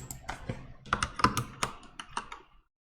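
Brisk typing of JavaScript code on a computer keyboard, a short burst of close, crisp key taps in uneven rhythm that stops abruptly, leaving silence.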